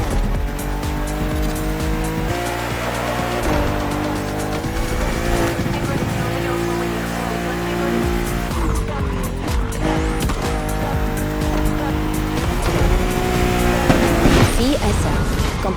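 A BMW race car in The Crew Motorfest roars at high revs, its engine note rising and falling through gear changes, with repeated tire squeals on the turns. The sound is loud and continuous throughout, layered with dense game music or effects.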